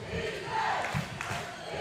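A crowd cheers and yells at a high school basketball playoff game in a packed gym at Bishop Grimes High School. The sustained roar fills the room, with a few sharper shouts rising out of it.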